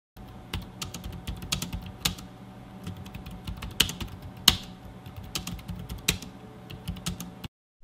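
Steady typing on a quiet Logitech K780 office keyboard, soft key clicks in an uneven rhythm with a few sharper taps, close by and alone for several seconds.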